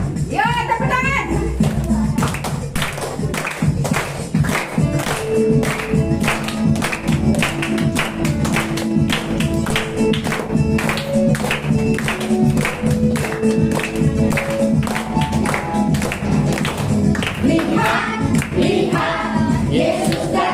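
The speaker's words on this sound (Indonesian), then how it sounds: "Yuk, tepuk tangan." Children clap their hands in a steady, rapid rhythm at a Christmas holiday Bible school, the claps sharp and close, with a voice and singing heard over the clapping for the whole stretch.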